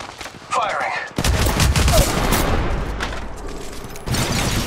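Bursts of rapid gunfire in a shooter game, loud and close, with the shots mixed with mechanical game effects and short pauses between them.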